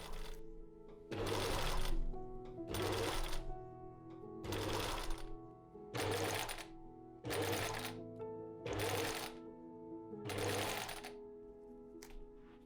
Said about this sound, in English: and then sewed a long channel